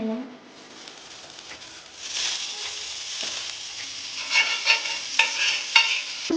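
Bread slice for French toast frying in butter on a hot pan, a steady soft sizzle that grows louder and crackles midway, with scraping and light clinks on top, no talk.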